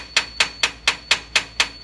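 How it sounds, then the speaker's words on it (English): A small hammer strikes a half-inch aluminum bar punch to drive a hydraulic cylinder gland down, giving eight sharp, evenly spaced metallic taps, close and loud. "We're gonna drive this gland down into the cylinder."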